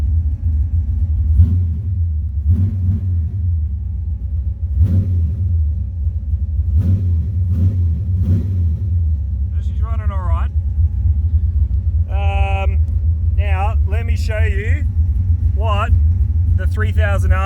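A race car engine at scrutineering for a Rockynats car show, idling with a deep steady rumble and a few sharp revs, then rising and falling whoops, close and loud, with people talking over it.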